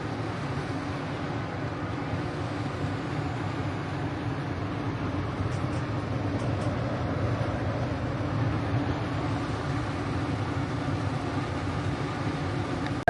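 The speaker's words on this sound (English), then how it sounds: "Now the heat pump's turned on." A new Houghton heat pump runs with a steady, even mechanical hum and whir, a constant drone close by with no voices.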